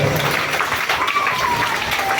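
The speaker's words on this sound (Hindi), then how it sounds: "इनके लिए जोरदार तालियों से स्वागत" Crowd at a Bhagwat Katha gathering at the Biloni Mata temple claps loudly to welcome a donor, a brief dense patter of applause with a faint tonal voice or instrument drifting over it.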